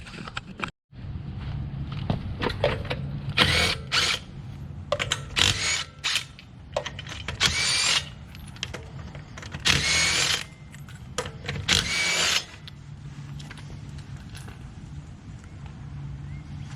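Bursts of a power tool whirring and ratcheting while a wheel is removed from a RAM 1500 pickup truck, several short loud runs separated by pauses, with mechanical clanks and background hum.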